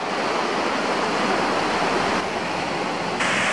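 Waves washing onto a beach at Hua Hin in Thailand, a continuous, broad surf roar that holds steady at close range with no voices and no distinct breaks between the waves.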